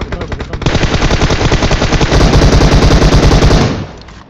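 Sustained automatic gunfire fills a multiplayer battle-royale shooter squad match, a dense rapid burst of shots, loud and close, running steadily for several seconds before cutting off.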